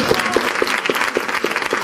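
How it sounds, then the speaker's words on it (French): Audience applause at a panel discussion, a close, fairly steady clapping with evenly spaced accents running throughout. "Je l'applaudis"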